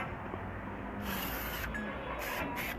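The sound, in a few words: spray bottle spraying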